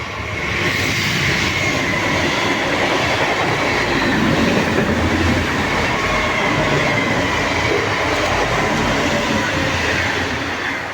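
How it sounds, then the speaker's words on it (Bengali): A train passes on a railway line beside a temple fair ground in rural Bengal, a steady loud rumble with faint clickety-clack and wheel noise running continuously through the whole stretch, with no talk. "এখন বর্তমানে ট্রেন আসছে,"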